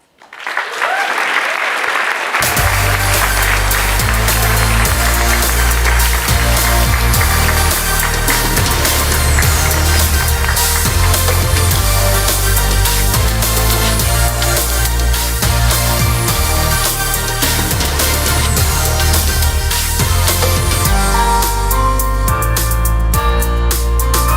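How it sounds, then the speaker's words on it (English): A large audience at a startup competition grand final bursts into loud, sustained applause for track winners, dense clapping rising quickly and continuing for over twenty seconds. "please join me in giving a big round of applause for the Digital and Finance track winners"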